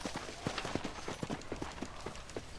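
Horse hooves gallop in the video game Red Dead Redemption, a quick, even clip-clop rhythm of repeated hoofbeats at moderate volume, steady throughout.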